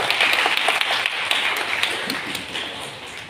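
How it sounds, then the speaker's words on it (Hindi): An audience at an International Women's Day event claps steadily together, a dense continuous patter of many hands that holds at an even level throughout. "तालियां बजा के बता दो"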